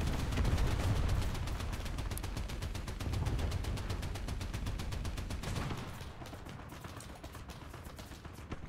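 Rapid, continuous bursts of cannon fire in the video game War Thunder, with dense repeated reports, loud at first and easing slightly toward the end.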